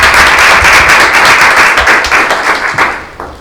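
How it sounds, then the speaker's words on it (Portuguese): Loud, close audience applause opening a storytelling event, a dense burst of many hands clapping that gradually thins and tapers off over a few seconds. "Salva de palmas"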